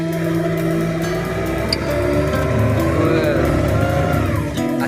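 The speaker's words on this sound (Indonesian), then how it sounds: "Asik, suara mesinnya seperti suara motor NMAX ini." A ferry boat engine runs steadily at night, a continuous droning hum with a buzzy, scooter-like tone, loud and close throughout with no talking.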